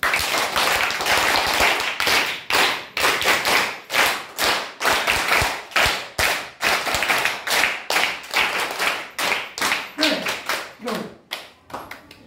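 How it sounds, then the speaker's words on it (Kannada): A group of schoolchildren claps loudly for their teacher and the staff during a school visit, a sustained wave of rapid, dense handclaps that tapers off in scattered claps at the end. "ಜೋರಾದ ಚಪ್ಪಾಳೆ ಕೊಡೋದು"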